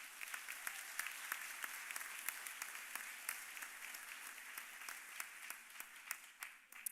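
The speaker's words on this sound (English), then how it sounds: "let's have a big round of applause for that" Audience applause at a senior awards night, a steady wash of many hands clapping with scattered sharper individual claps throughout, moderately distant in a large hall.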